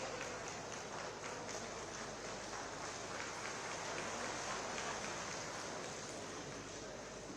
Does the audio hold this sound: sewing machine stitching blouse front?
no